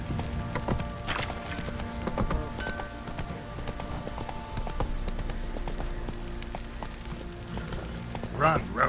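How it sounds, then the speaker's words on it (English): Horse hooves clip-clopping at a run in The Witcher 3 game, a steady rhythmic beat under faint talk and game ambience, ending in a brief louder burst. "Run, Roach"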